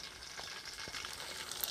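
Mustard seeds and cumin sizzle in groundnut oil as a tempering begins, a steady close frying hiss with a few faint pops.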